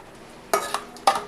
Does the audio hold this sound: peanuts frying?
yes